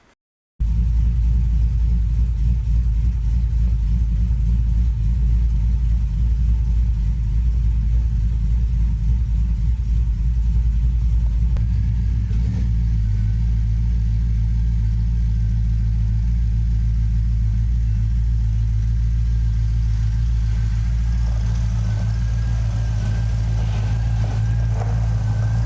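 A station wagon's engine, paired with an 8HP automatic transmission, rumbles steadily from inside while driving, a low continuous drone that shifts pitch as it accelerates partway through.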